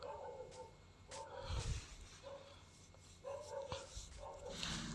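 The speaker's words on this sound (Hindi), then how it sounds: "एक गली में भाई ये कुत्ता भौंक रहा था एक" A dog barks repeatedly out in a street, a series of short barks and yips set back from a nearby voice speaking quietly and other low background noise.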